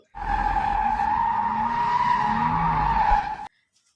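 A car skids on a race circuit with a loud, sustained tire squeal that holds steady for about three seconds over low road rumble, then cuts off abruptly into silence.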